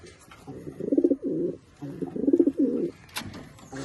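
A pigeon coos up close in two distinct rolling phrases, each a soft throaty burble, separated by a short pause.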